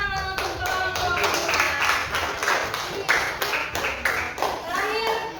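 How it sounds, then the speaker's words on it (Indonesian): Grade 5 schoolchildren clap in a classroom for a group of classmates, a close burst of many hands slapping in an uneven rhythm, with children's voices mixed in. "Beri tepuk tangan untuk kelompok 2"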